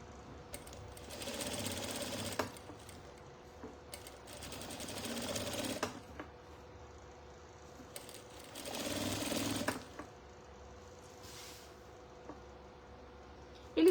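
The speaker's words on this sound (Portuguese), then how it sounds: "Vou encostar o meu pezinho de máquina aqui e vou fazer uma costura em toda a minha volta." Sewing machine stitching around a fabric apron: several steady bursts of fast mechanical whirring, each a couple of seconds long, separated by quiet pauses with small clicks, close and moderately loud.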